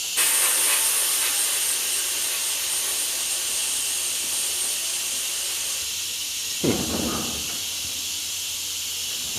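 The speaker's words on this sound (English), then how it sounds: "So I guess you got to be up close to it for it to actually blast." A new sand blaster blasts with a continuous loud, bright hiss that holds steady for several seconds, broken once by a brief knock or thump, with no talk over it.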